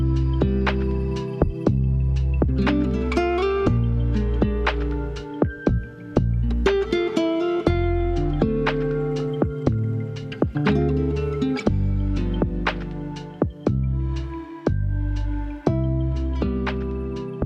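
Lofi chillhop beat at the drop with all layers together: punchy kick and snare hits, mellow keys and bass chords in a steady laid-back groove, moderately quiet with no voices.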